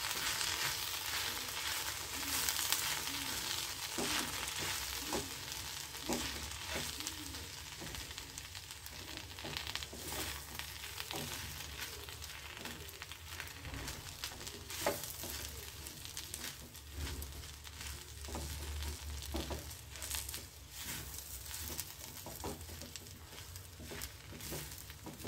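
Okra (lady finger) frying in a pan as ground masala is stirred in, a continuous crackling sizzle with scraping stir sounds throughout, quiet and close, no talking.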